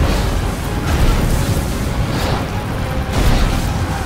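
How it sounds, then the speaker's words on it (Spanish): Catapult fireballs exploding in the video game Ryse: Son of Rome produce a loud, dense, continuous rumble of booms, with heavier bursts swelling and fading throughout. "vienen las catapultas, la bola de fuegos. Mierda, mierda, todo esto tiembla"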